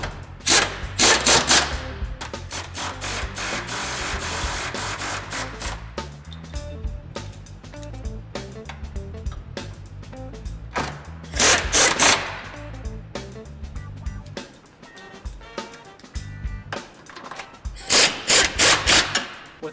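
Sway bar subframe bolts on a Volkswagen MKV/MKVI are snugged down with hand tools, giving a long run of ratcheting clicks, scraping and sharp metallic bursts at close range with no talk.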